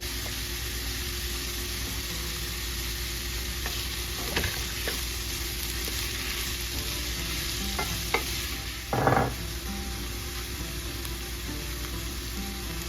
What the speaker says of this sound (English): I'm going to add a half a cup of onion and a half a cup of bell pepper chopped. And I'm going to saute that as well.